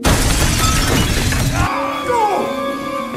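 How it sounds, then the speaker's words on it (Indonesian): A glass door smashed in a film scene: a loud, dense shattering crash that breaks off suddenly, followed by ringing, tinkling shards falling and scattering. "Pria tua tiba-tiba datang menghancurkan kaca pintu"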